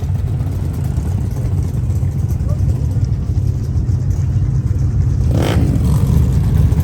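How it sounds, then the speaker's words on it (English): Loud, steady race engine rumble at the Mint 400 off-road race, a low continuous roar with a brief rising swell near the end, crowd or voices faintly mixed in. "The rumble has started."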